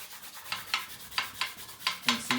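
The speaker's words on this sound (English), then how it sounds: "you're gonna have to excuse the noise, especially when I hit the easel with the brush" A paintbrush tapping and rubbing against an easel during live painting, with repeated soft scratchy strokes and a few sharper knocks in an uneven rhythm, close and fairly quiet.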